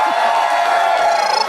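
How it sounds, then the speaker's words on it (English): Crowd at Everfree Northwest 2017, a pony fan convention, cheering and yelling for the Princess Cadance actress, a loud steady roar of voices with whoops throughout. "Yells for Britt McKillip, Princess Cadence."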